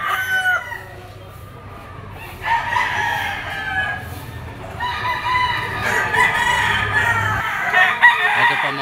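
A Boston sweater gamecock rooster crows repeatedly in several long, strained calls, loud and close, with other fowl clucking faintly behind and a low steady hum underneath.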